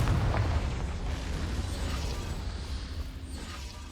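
A Confringo blasting spell bursts in Hogwarts Legacy with a loud, booming explosion at the start, then a dense rumbling roar that slowly fades over several seconds.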